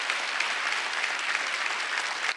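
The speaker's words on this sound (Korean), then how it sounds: "박수 좀 세게 쳐보세요." A church congregation at a Sunday worship service applauds loudly, a dense, sustained clapping that holds steady for a couple of seconds before cutting off abruptly.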